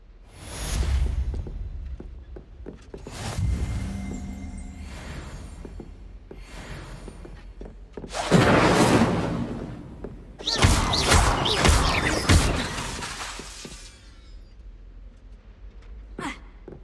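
Incendio fire spell cast repeatedly at practice targets in a Hogwarts Legacy classroom, heard as several loud whooshing fiery bursts and thumps spread across the span, with a brief spoken incantation.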